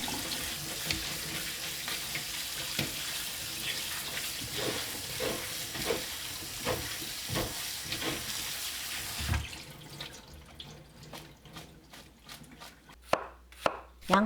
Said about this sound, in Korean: 양파와 파를 썰어주세요